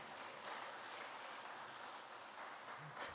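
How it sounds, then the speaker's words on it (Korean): A church congregation applauds during a sermon, producing a faint, continuous wash of many hands clapping at a distance, with no voices heard. "여러분 박수 한번 해주세요."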